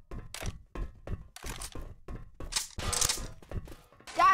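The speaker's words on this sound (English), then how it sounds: "Hey, I'm reloading" A series of sharp mechanical clicks, clacks and thunks comes from a weapon being reloaded in Left 4 Dead 2, sounding close and rhythmic and ending with a metallic ring.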